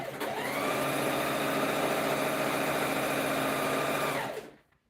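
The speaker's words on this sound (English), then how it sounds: "I'm sewing the wrong side of fabric" Sewing machine stitching scarf fabric on the wrong side, a steady close mechanical whir running continuously for about four seconds before stopping abruptly.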